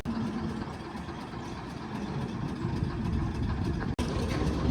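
A tractor pulling a trolley loaded with soil approaches, a continuous low diesel engine rumble that steadily grows slightly louder, heard alone with a brief sharp break near the end.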